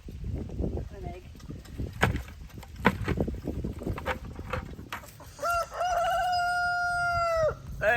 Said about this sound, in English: Hey Nemo, that's our newest rooster.